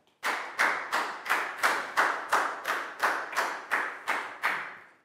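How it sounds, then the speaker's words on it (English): About eleven loud, evenly spaced claps from a Year 4 class clapping together in unison in a classroom, with no talking. "Big round of applause for Net, please, guys."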